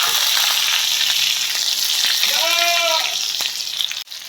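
Sliced onion rings dropped into hot oil with curry leaves for a mutton fry, a steady sizzling hiss that flares briefly, with a short tonal squeak midway and a clunk at the end.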